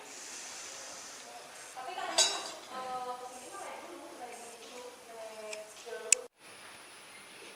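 Medical instruments being packed away after a blood gas sampling procedure, with light metallic clinks and small clatters scattered through the span, close by and moderately quiet, one sharper clink near the end.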